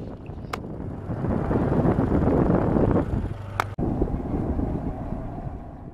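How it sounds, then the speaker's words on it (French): Strong wind roars and buffets the microphone, swelling and easing with a couple of sharp clicks, no voices. "Je vais vous laisser juste avec le bruit du vent quelques instants"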